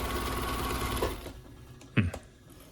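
A Husqvarna Viking 6430 sewing machine runs at high speed with a steady, dense mechanical whir for about a second, then stops, leaving a quieter background and a short knock.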